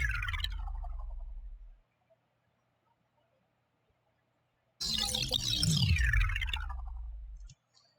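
A bass sound run through a vocoder that works on its resonances for wet, liquid sci-fi movement design: a loud, resonant, gurgling burst that fades out, then a short silence and a second, longer burst.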